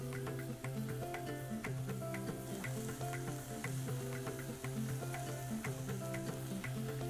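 Jackfruit pieces fry in a spicy gravy with ginger-garlic paste and chopped green chillies, giving a steady close sizzle with dense crackling pops and occasional stirring scrapes throughout, without any talk.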